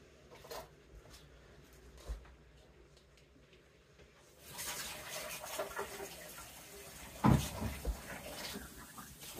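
Water runs from a kitchen tap to fill a new rice multi cooker, a steady broadband rush starting partway through after a quiet stretch, with a sharp clunk near the end.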